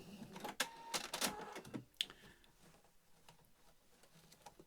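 A home sewing machine runs a short burst of tie-off stitching at the end of a seam on a beginner's fabric storage caddy, giving quick rapid clatter and a few taps, then fading into quieter handling noise.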